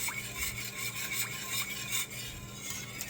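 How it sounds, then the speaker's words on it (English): Whisk stirring casserole sauce of milk in a pot, a continuous soft scraping swish with a quick repeated back-and-forth rhythm, close and fairly quiet, no talk. "keep whisking this to make sure that it doesn't clump up"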